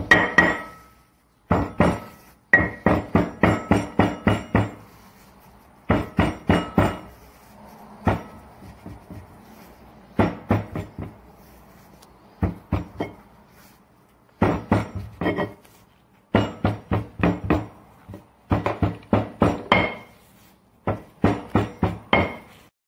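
A stone mortar pounds garlic into shredded beef machaca in a home kitchen, sharp hard knocks in rapid rhythmic bursts of five to eight strikes separated by short pauses, loud and close with no talk.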